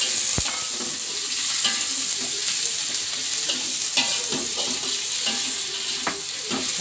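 A small tomato sautés in a pan with earlier aromatics for a turmeric coconut curry, steady close frying sizzle with intermittent spoon knocks and scrapes.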